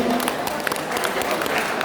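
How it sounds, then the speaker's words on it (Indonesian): An audience at a school admissions meeting gives a short, dense round of applause, many hands clapping close by at a steady level, with some talk mixed in. "Tepuk tangan dulu untuk solusi."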